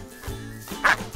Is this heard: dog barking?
yes